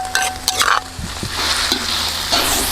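Pounded curry paste stir-fried in a pan, a loud close sizzle with scraping stirs and clinks of a utensil against the pan.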